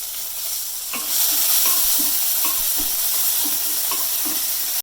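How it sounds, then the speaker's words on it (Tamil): Tomato, garlic and tamarind sauté in a pan for carrot chutney, giving a loud, close, continuous sizzle that swells after the first second and holds steady with soft stirring scrapes. "நல்லா வதங்கும் வரைக்கும் கொஞ்சம் அந்த தக்காளி பூண்டு இதெல்லாம் கொஞ்சம் வதங்கணும்."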